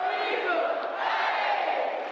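Basketball arena crowd roaring as a former WNBA champion and All-Star pumps them up before tip-off: a sustained, dense wall of shouting and cheering voices, steady and loud throughout.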